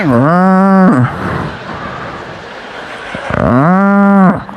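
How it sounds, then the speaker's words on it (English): A cow on a street in Indian traffic moos loudly nearby, two long low bellows separated by a pause filled with traffic rumble. "There's a cow crossing the street while we're driving."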